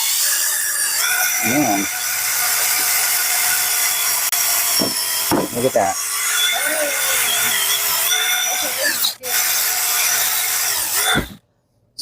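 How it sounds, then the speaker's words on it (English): A power drill whines at high pitch as it bores into wood, running in long stretches with brief stops; someone speaks briefly between bursts. "I'll go ahead and start drilling."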